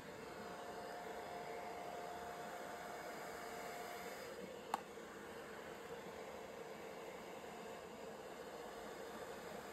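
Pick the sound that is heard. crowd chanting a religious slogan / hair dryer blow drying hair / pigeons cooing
hair dryer blow drying hair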